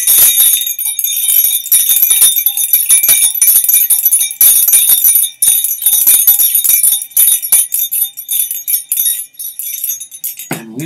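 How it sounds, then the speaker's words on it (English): Jingle bells are shaken continuously, making a bright, loud, close tinkling that runs in uneven rhythmic bursts for about ten seconds and then stops. "Let me ring my jingle bells before I sign off here."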